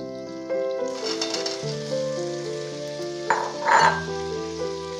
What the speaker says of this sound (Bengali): মিনিট 5-6 ভাজার পর আমি এই কেটে রাখা ধুয়ে রাখা এই গ্রিন টমেটোগুলো দিয়ে দিচ্ছি